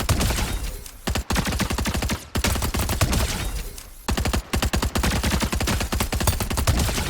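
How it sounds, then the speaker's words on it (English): SMG fire in a video game, heard as loud, close bursts of rapid shots in three runs separated by brief pauses, with no talk over it. "This is me tap firing."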